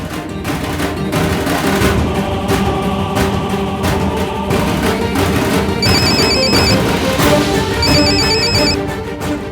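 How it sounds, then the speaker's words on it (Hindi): Telephone ringing in a Hindi TV drama scene, an electronic ringtone sounding in two bursts over loud, busy dramatic background music with no talking. "वो कमीना जो कोई भी है यही है और अब उसका फोन बजेगा।"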